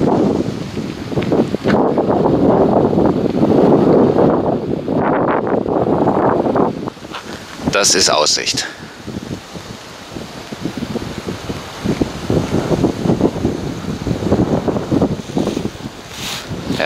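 Gusty wind buffets the microphone at the Kipphorn viewpoint in the Elbe Sandstone Mountains of Saxon Switzerland, roaring strongly, then easing to a lower rush. Someone speaks briefly.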